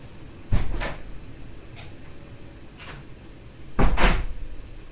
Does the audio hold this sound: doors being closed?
yes